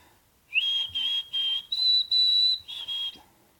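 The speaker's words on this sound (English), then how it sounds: "The second whistle is a bit higher and it sounds like this" A high, piercing whistle made with the teeth and lower lip in several short bursts holding nearly the same pitch, close up with nothing else around it.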